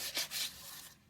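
A small Dollar Tree sanding tool rubs across a dried Mod Podge craft surface in two or three quick, close scraping strokes, soft and brief, with no voices.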